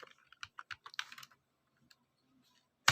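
Code is typed on a computer keyboard in a short burst of close, quiet key clicks, followed by a pause with one or two isolated taps and a final louder keystroke.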